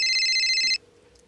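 A telephone rings with a bright electronic trill for under a second, then cuts off, leaving near silence.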